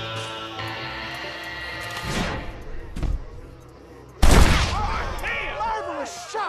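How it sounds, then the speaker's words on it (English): Gunshots in the Red Dead Redemption Western video game: a sharp blast near the midpoint, another heavy crack later, set against a music score, with game characters speaking around the shots. "Marvelous shot, dear boy!"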